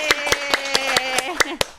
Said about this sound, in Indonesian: Tepuk tangan, tepuk tangan, tepuk tangan.